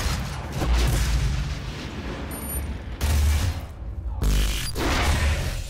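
Shotgun blasts in the virtual-reality shooter DOOM VFR on PSVR, several loud booming shots in a steady rhythm with heavy low-end thumps, close and dominant, with game combat noise between them.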